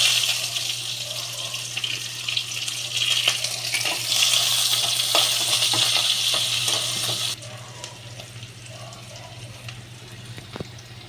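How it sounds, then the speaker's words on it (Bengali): Chopped onion dropped into hot oil with a bay leaf, cooking in a pan for a potato and pointed gourd curry, giving a steady bright sizzle close up that drops to a softer frying hiss partway through. "এবার আমি একটু পেঁয়াজ দিয়ে দিলাম।"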